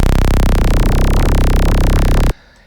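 A loud, dense dispersed saw wavetable synth patch from Phase Plant's factory wavetables, a bright buzzing sustained tone that fills the spectrum, then cuts off abruptly into a faint tail.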